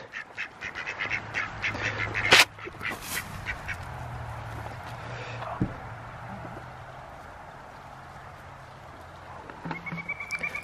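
Chickens cluck and murmur nearby in short, repeated bursts, with a sharp knock early on and quieter stretches between calls.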